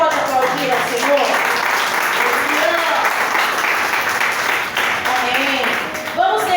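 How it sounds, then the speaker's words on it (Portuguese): Church congregation applauding the Lord during a service, steady dense clapping throughout with voices faintly mixed in. "Você pode aplaudir ao Senhor?"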